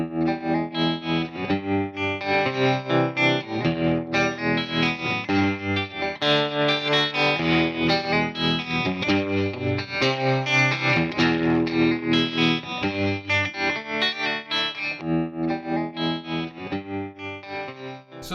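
Tone King Imperial guitar combo amp plays guitar chords through spring reverb and bias-modulated tremolo, the volume pulsing in a steady, even rhythm throughout, close and without talk.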